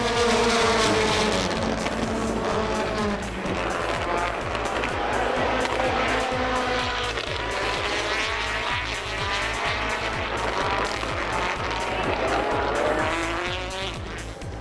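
Rallycross race cars battle on the final lap at Bushy Park, Barbados, in Red Bull Global Rallycross 2015 round 11. Loud, close engines rise and fall through repeated gear shifts, with tire squeal and skidding continuing throughout.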